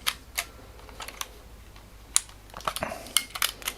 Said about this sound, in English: click and wind on, click and wind on